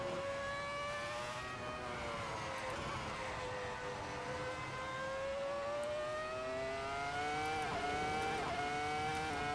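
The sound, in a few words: Formula 1 car engine in video game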